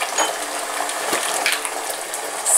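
A small splash of hot water poured into tomato sauce for Sorrentina gnocchi, a brief bright trickle and sizzle over steady kitchen hiss, close and moderately loud with no talking.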